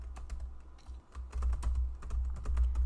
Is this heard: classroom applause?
no